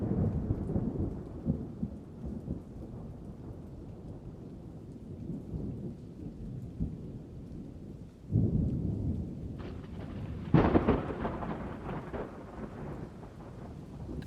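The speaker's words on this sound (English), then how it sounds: "recordings of thunderstorms, work best to improve performance and reaction time" A thunderstorm with steady rain falling on surfaces and rolling thunder, the downpour constant throughout and two louder thunder cracks bursting in near the end, no voices.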